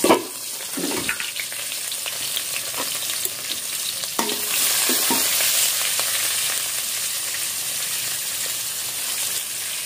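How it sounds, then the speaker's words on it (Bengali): Onion hits hot oil with a loud, steady sizzle that fills the whole stretch, with a few stirring scrapes near the start, close by and with no talk. "তেলের উপরে পেঁয়াজ দিলাম"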